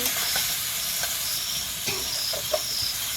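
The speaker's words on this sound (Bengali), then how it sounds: "এদিকে হয়ে গেছে মাংস ভাজি কষানো মাংস" Chicken meat for a light curry fries in a pan in a home kitchen, giving a steady close hiss and sizzle with a few small pops, and no voices.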